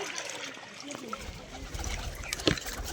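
Warm water being poured out for pigeons upstairs on a cold winter day, a soft trickling, splashing flow that grows steadier after the first second, with a voice speaking faintly in the background.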